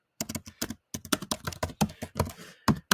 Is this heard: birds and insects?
no